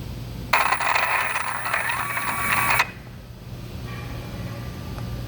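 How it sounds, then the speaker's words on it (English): The electric motor of a Keystone EPI2 actuator starts with a sharp onset and runs as a loud, steady whirring drone for about two seconds, then cuts off abruptly, leaving a low background hum. "If my motor is running"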